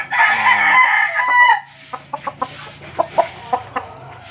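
Chickens and roosters in a poultry yard: a loud, close rooster crow fills the first moment, followed by a run of sharp, irregular clucks.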